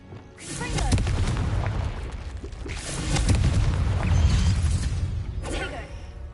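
Confringo fire spells blast during Hogwarts Legacy combat, two heavy booming explosions with rumbling roars back to back, then a quick crackling burst at the end.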